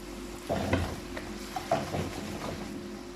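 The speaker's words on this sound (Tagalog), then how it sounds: "So ito na mga itlog, lutuin muna natin." Eggs frying in a pan, a soft sizzle with a few utensil scrapes and light clinks against the pan, fairly quiet and close.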